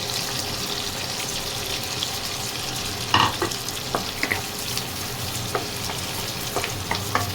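Garlic, onion and ginger sauté in a pan with a continuous close sizzle, broken by a few light clinks and stirring scrapes of a utensil.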